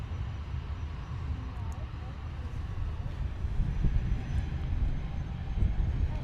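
Airliner jet engines idle with a steady low rumble and hiss while the aircraft waits lined up on the runway at London Luton Airport, continuous and moderately loud with no breaks.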